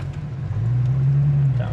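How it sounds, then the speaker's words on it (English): 1972 Pontiac Firebird Formula 400 engine pulling through a gear, a low steady drone that swells and holds, heard from inside the car with a little talk over it. "We'll go through the gears so you guys can hear how the transmission shifts."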